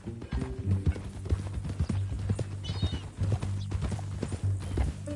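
Horse hooves clip-clop steadily on hard ground, close and fairly loud, with a brief whinny and background music or tones running underneath.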